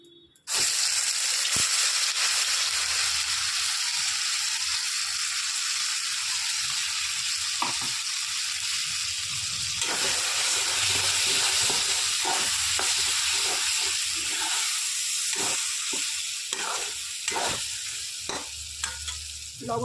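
Ground peas, ginger and green chili hit hot ghee and sizzle continuously, with repeated scraping stir strokes growing busier toward the end. No one speaks.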